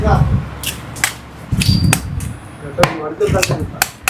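A knife chops through seer fish at a fish cutting stall, giving sharp, irregular thwacks close by with background bustle.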